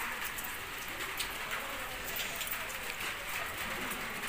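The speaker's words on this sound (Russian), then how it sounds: "Дождь у нас в Мерсине." Rain falls steadily in Mersin, a soft continuous patter of drops on surfaces, quiet and even throughout.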